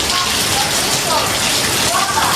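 Heavy rain pours steadily on a rural provincial home, a dense continuous hiss of drops hitting surfaces, loud and close throughout the short stretch with no talk.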